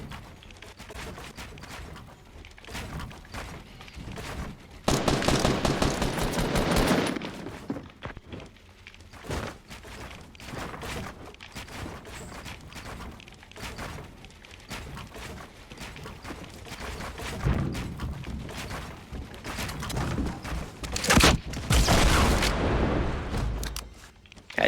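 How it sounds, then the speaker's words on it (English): Gunfire and thudding impacts in a Fortnite match played on console, with loud bursts of shots at the start and again near the end, under steady busy game noise. "Now I'm also getting shot at from another player."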